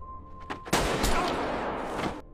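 Burst of gunfire from a scene in the film Squid Game, several sharp cracks merging into a loud sustained volley that fades out after about two seconds.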